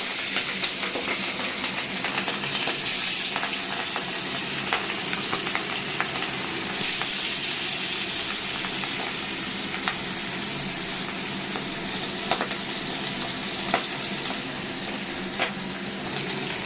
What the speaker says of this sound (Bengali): তেল গরম হয়ে গেছে, আমি এখন এর মধ্যে নুন মাখানো পাবদা দিয়ে দিলাম